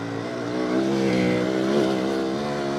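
A Benelli BKX 125 motorcycle engine strains hard in second gear on a steep climb, a steady loud buzzing drone that wavers slightly in pitch as the revs hold high.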